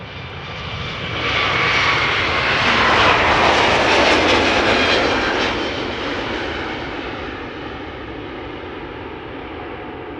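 An Airbus A321neo of TAP Air Portugal departs Amsterdam Schiphol Airport, its jet engines swelling into a loud roar that peaks midway and then fades into a steady distant rumble.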